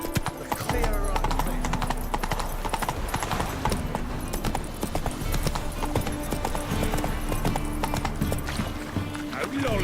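Roach the horse in The Witcher 3 gallops with a fast, continuous clip-clop of hooves, loud and close, under dense game sound and a speaking voice.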